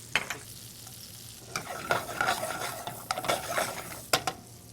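Shallots sauté in a little butter in a hot pan, crackling sizzle broken by repeated bursts of stirring and clinks of a utensil against the pan.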